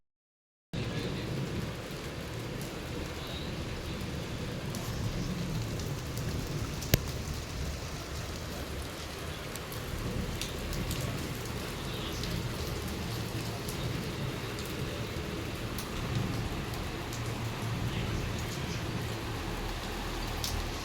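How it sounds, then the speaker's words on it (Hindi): Heavy rain pours steadily at night over a village, a dense unbroken hiss that lasts throughout, with one sharp crack and faint thunder rumbling in the background. "रात में कितनी ज़्यादा तेज़ लाइटिंग बारिश वगैरह हो रही थी"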